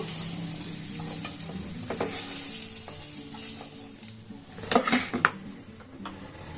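Potatoes frying in oil in a pan during preparation of a pointed gourd, potato and egg curry, with a steady sizzle and clinks of a utensil and pan as the pieces are lifted out, louder scraping near the end.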